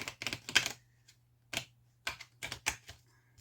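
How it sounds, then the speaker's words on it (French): Tarot cards being shuffled by hand, heard as irregular bursts of crisp papery riffling and tapping separated by short pauses, close and fairly quiet over a low steady hum. "Je vais bien les mélanger"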